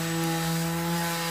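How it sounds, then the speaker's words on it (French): A Bosch PSM 200 AES electric sander working wood at higher speed, a loud, steady motor whine with a rough, continuous abrasive rasp throughout. "je vais augmenter la vitesse de ponçage pour voir la différence d'efficacité"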